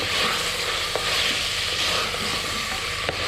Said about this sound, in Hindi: अब ये प्याज भी डाल दें, इसको भी थोड़ा सा फ्राई कर लेते हैं।